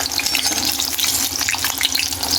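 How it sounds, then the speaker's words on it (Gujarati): Whole chillies frying in hot oil in a pan while a potato curry is made, a steady bright crackling sizzle throughout, close and continuous with no talk. "તેલ ગરમ થઈ ગયું તો પહેલાં આપણે મરચાં તળી લઈએ"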